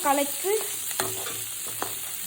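A quarter kilo of small onions and spices, clove among them, sizzle in a pan while being stirred, with soft scraping strokes over a steady close frying hiss.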